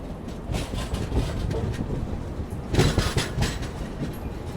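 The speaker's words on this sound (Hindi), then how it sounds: "एकदम स्लो होते हुए आराम से गाड़ी रुकेगी" Jhelum Express train rolling slowly into Bina Junction station in Madhya Pradesh, a close rumble with irregular wheel clacks and a louder burst of rattling midway.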